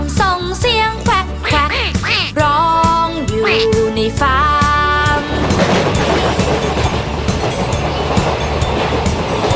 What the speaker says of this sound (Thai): ฝูงเป็ดอยู่ในฟาร์มส่งเสียงแควกแควก